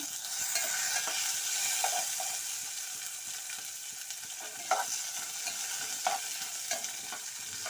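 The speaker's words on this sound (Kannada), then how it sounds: "ಎಲ್ಲವನ್ನು ಫ್ರೈ ಮಾಡ್ಕೊಳ್ಳಿ ಈರುಳ್ಳಿ ಹಾಕೋದು ಈರುಳ್ಳಿ" Onions frying and being stirred in a pan while making vegetable upma, with a steady hiss of sizzling oil broken by scraping stirs and soft clicks of a spoon against the pan, close and alone.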